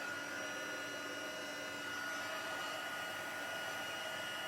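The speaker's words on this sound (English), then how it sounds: "So let me just heat my heat tool up." Craft heat tool for melting embossing powder, running as a continuous, even electric blower whine with a steady airy hiss, close and alone.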